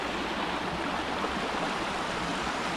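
Heavy rain and running water in Lake District woods near Thirlmere, a steady, dense hiss that stays loud and unbroken throughout with no voices.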